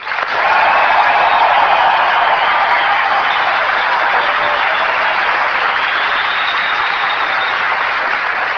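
Sustained applause from an audience, a steady wash of clapping that holds at an even level for several seconds with no talking.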